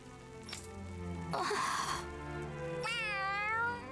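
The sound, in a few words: cat meowing in video game Tales of Arise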